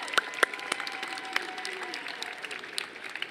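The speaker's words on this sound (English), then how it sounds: "let us applaud all of your efforts" Audience applause for orientation leaders and resident advisors at a university freshman convocation, a steady broad patter of many hands clapping that holds evenly throughout, with a few sharper individual claps standing out near the start.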